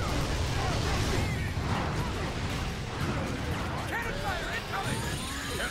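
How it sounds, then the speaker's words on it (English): Heavy cannon fire and explosions in the video game Vanquish form a dense, loud, continuous barrage of blasts and crashes throughout, with a voice talking over the action. "Cannon fire incoming!"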